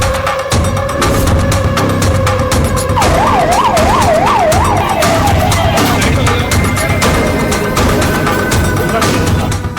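An ambulance siren wails loudly and steadily, its pitch sweeping up and down in a rapid warble partway through, over rumbling road traffic.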